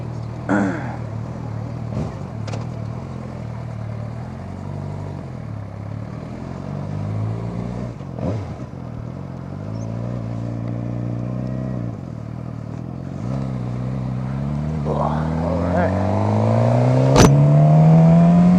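A motorcycle engine with its check-engine light on idles steadily and loudly up close, then revs higher and higher toward the end, with a brief clatter partway through.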